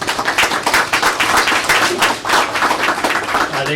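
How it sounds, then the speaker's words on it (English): Audience clapping for board members at an Algonac board of education meeting, a steady patter of many hands filling the room for a few seconds, with faint voices underneath. "let's give them a round of applause"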